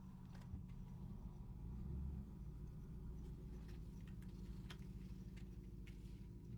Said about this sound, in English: that was a really loud car in the background